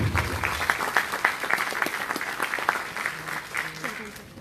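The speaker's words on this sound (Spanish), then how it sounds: "Un aplauso para Yesenia Mojica." An audience at a session of a culture-of-peace and post-conflict diploma program in Colombia applauds, giving dense, steady clapping throughout with a voice faintly audible beneath it.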